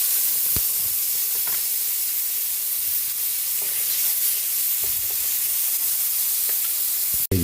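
Garlic, onion and tomato sauté in a hot pan with a steady, close sizzle and hiss, broken by a few soft stirring knocks and a sharp clack near the end.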